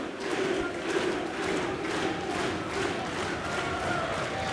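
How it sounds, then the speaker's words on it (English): An audience at a doubles pool match voices a sustained, murmuring collective groan of sympathy, a dense crowd reaction that holds steady throughout at moderate loudness without distinct individual words. "the crowd showing a lot of sympathy for Mike Deschênes' plight"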